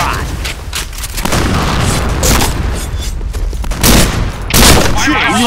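A shotgun fires repeatedly in a video game, loud booming blasts in quick succession over a dense backdrop of other gunfire and explosions, with game voice callouts mixed in.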